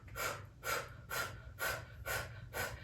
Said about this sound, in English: We're gonna do Bhastrika for about 1 minute.